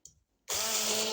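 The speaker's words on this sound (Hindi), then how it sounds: "अब इसको हम ग्राइंड करेंगे।" Kitchen grinder blending mint and coriander chutney, switching on after a brief pause into a loud, steady high whirring whine that continues to the end.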